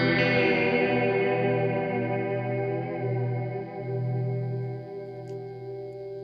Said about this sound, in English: That's a pitch modulation on the reverb.